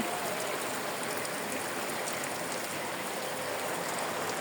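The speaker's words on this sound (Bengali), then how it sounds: "37 ডিগ্রি সেন্টিগ্রেড তাপমাত্রায় বৃষ্টি নামছে সোনালী এগ্রোয়" Rain falls at a poultry farm during intense 37 °C heat, a steady, dense, even hiss of water with no pauses and no voices.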